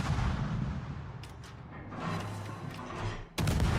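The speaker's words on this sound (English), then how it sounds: "Another torpedo hit." A torpedo strike explodes against a warship in World of Warships, heavy low booms and rumbling blasts running throughout, with a sharp, loud new impact near the end.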